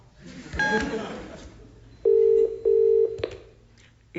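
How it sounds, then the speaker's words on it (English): Telephone speed dialing: a ringing tone sounds briefly, then two loud, steady electronic tones follow close together, with a voice speaking at the start. "I put him on speed dial."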